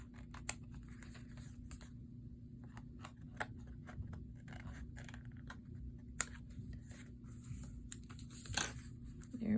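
Scissors trimming paper for a pleated fold card, a few quick close snips and crinkles over a steady low hum, fairly quiet.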